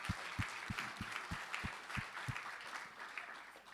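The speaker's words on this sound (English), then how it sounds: "please give them a round of applause, of course" Light, scattered applause from a room of guests honouring partners at a netball awards night. It sounds faint and distant, with a few distinct low claps near the start.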